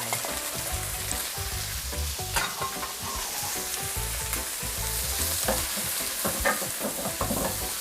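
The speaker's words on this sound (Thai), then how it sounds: "เราจะผัดผักกาดดองกับกระเทียมแล้วก็น้ำมันก่อนค่ะ" Pickled mustard greens and garlic sizzle in hot oil as a spatula scrapes and stirs them in a pan, a steady close frying crackle with irregular clanks and no talking.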